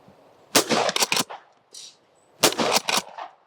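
A Winchester pump-action shotgun fires in sharp, loud bursts: a rapid cluster of blasts and rattling action clatter, a brief pause, then another tight cluster, all close by.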